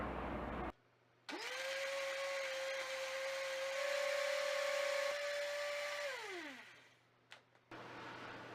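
A blender blending pandan leaves with water whirs steadily for several seconds with a high motor whine, then winds down to a stop; quiet before and after.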